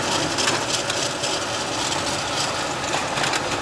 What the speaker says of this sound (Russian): мотор хорошо работает,